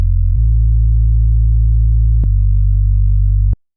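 A deep synthesized sub bass for progressive house with drive distortion adding overtones, sustained loud tones that shift pitch twice and then cut off abruptly, with no talking.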